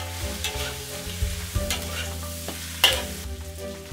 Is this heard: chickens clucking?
no